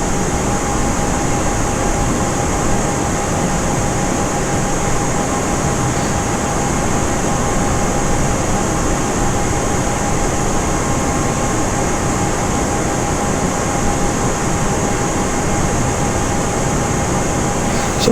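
Airliner in a flight simulator game cruising on approach to Cancun International, a steady continuous engine and airflow drone with a faint constant whine, unchanging and alone throughout.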